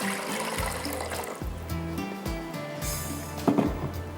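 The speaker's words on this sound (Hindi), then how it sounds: "अब यहाँ पर कुछ थोड़ा सा हम रखेंगे पानी और इसके बाद यहाँ पर बॉयल करेंगे स्पैगेटी को" Water poured into a cooking pot for boiling spaghetti, a steady close splashing fill running for a few seconds with clattering kitchen noises throughout.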